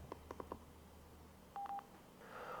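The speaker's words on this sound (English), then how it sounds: "Once you hear the headset make a boop boop sound, you know that you've connected." ASMAX Z1 motorcycle Bluetooth headset sounding short electronic beeps, first three quick tones and then a brief double boop, faint and close in a quiet room.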